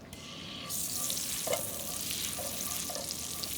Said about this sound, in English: We'll let that saute up a little while.